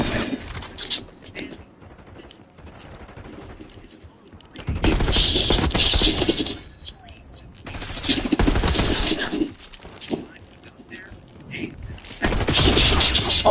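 Gunfire in a Call of Duty match: loud bursts of automatic rifle fire and rapid volleys come in several long stretches, separated by quieter gaps where a player's voice is heard talking.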